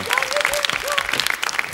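Studio audience applauding a guest on a French television game show, a dense steady patter of many hands clapping close by, with a faint voice or tone gliding through in the background.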